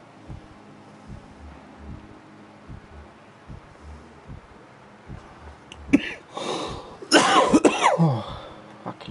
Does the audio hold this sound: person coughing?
yes